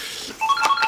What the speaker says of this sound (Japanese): あ、電話かかってきた。